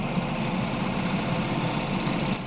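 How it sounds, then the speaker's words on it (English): A scraper takes a very light shear scrape across a wet, punky spalted alder bowl spinning on a lathe, giving a steady whirring hum with a continuous soft hiss of cutting and no voices. "I try a very light shear scrape."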